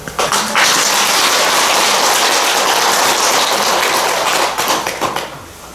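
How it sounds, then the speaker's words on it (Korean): An audience at a Buddhist New Year prayer service applauds after a talk. The clapping swells into a loud, dense, rain-like roar, holds steady for several seconds, then breaks into scattered claps as it fades. "박수 한 번 더 보내드리겠습니다"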